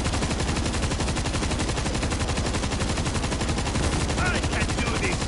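Rapid automatic gunfire in the zombie shooter World War Z, a dense, loud, unbroken stream of shots firing in quick succession for the whole stretch.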